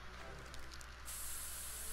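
Pepper spray hissing in South Park: The Stick of Truth, a soft steady spray that jumps to a brighter, louder hiss partway through and carries on to the end.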